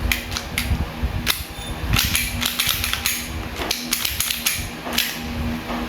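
An airsoft Glock pistol being reassembled, its slide fitted back on and racked, giving a dense run of sharp plastic clicks, snaps and rattles close up with no talking.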